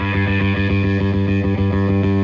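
Electric bass played through an EBS Billy Sheehan Ultimate Signature Drive pedal with the tone control turned all the way up, a buzzing distorted note repeated in a steady pulsing rhythm, loud and alone.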